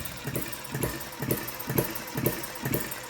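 A Retrol & Musa HM-01 hit-and-miss model engine runs on a wooden table, giving a steady, close chugging beat of about two firing pulses per second with a light knock, alone and without talk.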